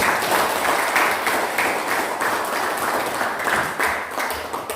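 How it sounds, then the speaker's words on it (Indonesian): Steady applause from a group, dense continuous clapping that holds evenly for several seconds with no speech over it. "Oke, tepuk tangan dulu buat."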